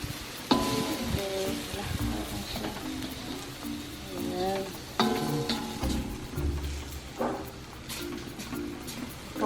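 Bitter gourd and ground pork sizzle in a hot pan while being stirred and scraped, with steady frying hiss and repeated utensil knocks; voices talk over the cooking throughout.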